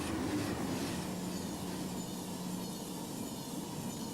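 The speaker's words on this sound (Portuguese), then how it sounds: "O Eurostar passa por 4 sistemas ferroviários diferentes em 3 países." A Eurostar high-speed electric train runs steadily on rails, a continuous broad rumble and rush of wheels and air with no breaks.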